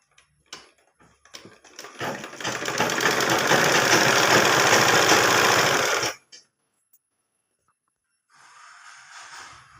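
Sewing machine stitching the cross piece of a nightie with frilled neck, one steady burst of about four seconds after a few short taps, then stopping, followed by a faint rustle of fabric.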